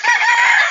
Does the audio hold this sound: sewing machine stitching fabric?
no